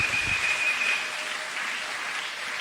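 A church congregation claps and applauds at a worship service, steady broad clapping filling the space for a few seconds with no talking over it.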